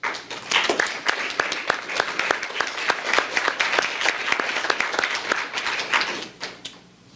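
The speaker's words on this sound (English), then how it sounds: "All right, round of applause." Applause at an awards ceremony, made of many distinct sharp claps in a lively, fairly close burst that keeps up for about six seconds before tapering off, with some voices mixed in beneath.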